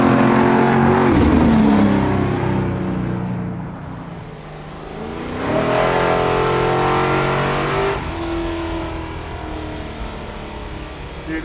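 A 750-horsepower big-block Ford Galaxie drag car engine revs loudly up close, with a rising roar that eases off midway and then climbs into a second sustained, heavy rev.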